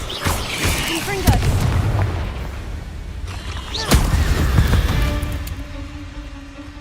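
A Confringo explosion spell goes off in the video game Hogwarts Legacy, with loud booming blasts near the start and again midway, amid ongoing battle effects and a voice calling out.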